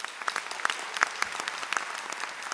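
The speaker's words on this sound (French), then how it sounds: "On peut les applaudir très fort." Fairly quiet applause from the audience at a jazz venue in Marciac, steady overlapping clapping with a few sharper individual claps standing out.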